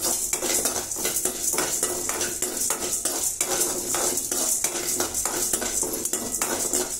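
Chana dal lentils are dry-roasted in a pan for Kanyakumari-style idli podi, heard as quick, rhythmic rattling and scraping of a spoon against the pan, with a faint sizzle underneath.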